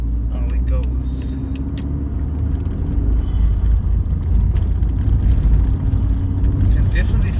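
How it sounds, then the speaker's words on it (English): A VW Golf mk4 GTI 1.8T accelerates along a dual carriageway, heard from inside as a deep, steady engine rumble and road roar that builds slightly, with no talk over it. "Let's take it down a dual carriageway. Put our foot down."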